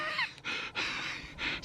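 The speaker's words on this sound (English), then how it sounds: "If you're wondering why I'm panting, it's a little bit steep." A hiker climbing a steep bank on Lothwaite Fell pants heavily, with four or five rasping breaths in quick succession, close and fairly quiet.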